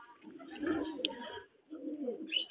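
A red Giribaz pigeon coos at a pigeon loft in Rajshahi, giving two soft, close, throaty coo phrases separated by a brief pause.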